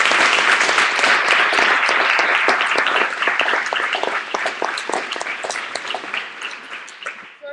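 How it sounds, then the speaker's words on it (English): Audience applause fills the room in a dense, steady burst of many hands clapping, loud at first and gradually thinning and fading toward the end. "So if you could give your leadership a huge round of applause."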